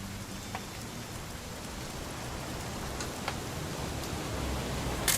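Steady video-game rain pours down in a dense, even hiss, with occasional sharper drops ticking nearby over the constant wash.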